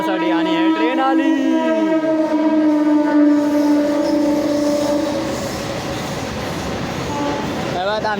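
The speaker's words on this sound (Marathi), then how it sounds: "आणि ट्रेन आली." A train pulls into a station platform with a loud, sustained horn blast and screeching wheels, the tones gliding and fading as it slows, busy station noise continuing underneath.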